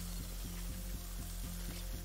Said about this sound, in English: Oh gosh, we're sizzling!